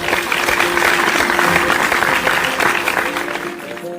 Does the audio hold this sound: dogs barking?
no